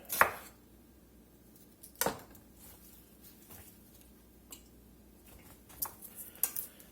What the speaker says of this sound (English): I'm just gonna go through here and kind of rough chop this a little bit